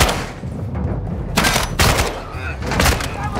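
Shotgun blasts and gunfire in Call of Duty: Modern Warfare II, loud bursts near 1.4, 1.8 and 2.8 seconds over a constant busy game backdrop.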